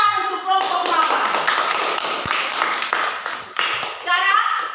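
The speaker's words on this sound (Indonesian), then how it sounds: "tepuk tangan untuk kelompok mawar" Students in a classroom clap for a group that has just finished presenting, a quick burst of scattered applause that rises and falls, with children's voices and chatter over it.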